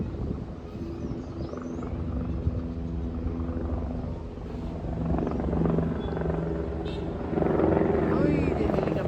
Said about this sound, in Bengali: ওই যে হেলিকপ্টার যাচ্ছে।